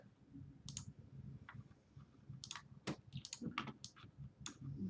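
A computer mouse clicks sharply while editing in HitFilm software: a few scattered single and double clicks over a faint room hush, close and quiet.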